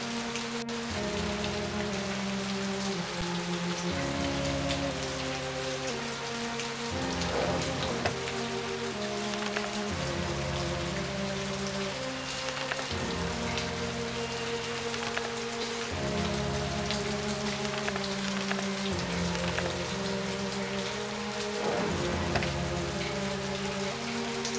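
Steady rain falls in the video game Agatha Christie: And Then There Were None, a constant drizzle hiss over looping musical tones, with no speech.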